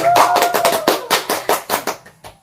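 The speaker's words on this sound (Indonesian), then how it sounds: "tepuk tangan dulu dong untuk kita semua" An economics class claps in a simulated lesson, with loud, close, rhythmic claps in a steady beat that slows into separate hits before stopping; a faint tone runs under the opening claps.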